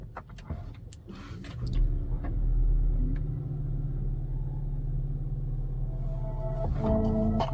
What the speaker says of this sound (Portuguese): Eu vou ligar o carro aqui,